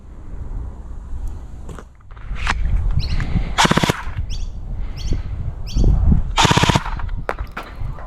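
An LDT MP7 gel blaster rated at 300 fps fires at a target in rapid bursts of sharp mechanical cracks, several short volleys spaced across the span, close and loud.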